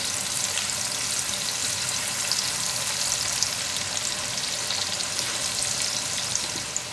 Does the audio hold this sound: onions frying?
yes